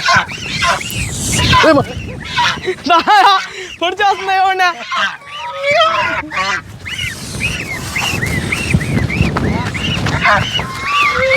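Geese in a garden enclosure give harsh, close honking and hissing calls in bursts, with several people talking loudly over and between them.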